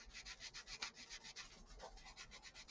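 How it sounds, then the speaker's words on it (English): A sanding sponge gently polishes a small plastic part from a 1/200 scale ship model, giving a close, steady rhythmic rubbing of quick back-and-forth strokes with no talk. "sanding sponge here to the rescue. And just kind of gently polish up the areas where our X-Acto knife blade's been"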